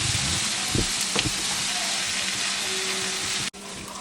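Corned beef sautés in a pan, a close, even sizzle and hiss with a couple of brief clanks from stirring, ending in a short cut.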